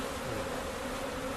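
A steady, dense hum of honey bees swarming around an open hive box in a backyard apiary, continuous and fairly close throughout with no voices.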